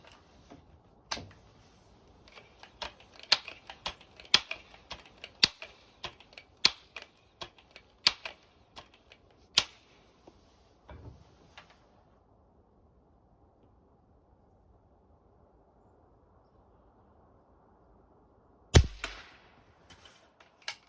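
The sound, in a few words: shots from a Seneca Dragonfly .177 air rifle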